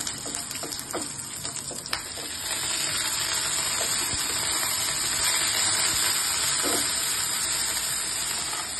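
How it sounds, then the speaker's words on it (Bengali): Green chillies, garlic cloves and cumin frying in oil for thecha, a steady hissing sizzle with a few light clinks early on, close and continuous. "রসুনের কোয়া দিয়ে দিচ্ছি, কাঁচা লঙ্কা একটু হালকা ভেজে ভাজা ভাজা হচ্ছে"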